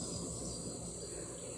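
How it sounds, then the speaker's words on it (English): Crickets trill steadily outdoors near woods, with faint bird calls mixed into the quiet, constant background; no talking. "I hear all the birds and the crickets"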